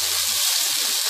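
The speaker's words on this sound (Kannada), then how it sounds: "ಈಗ ಟೊಮೆಟೊನ ಸೇರಿಸ್ತಾ ಇದ್ದೀನಿ." Onions already fried in a pan give off a steady, close sizzle and hiss as a small tomato is added, with no talking.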